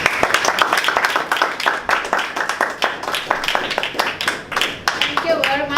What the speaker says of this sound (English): Let's give him another round of applause for his